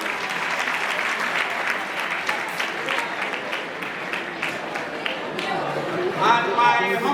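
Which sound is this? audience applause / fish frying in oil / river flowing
audience applause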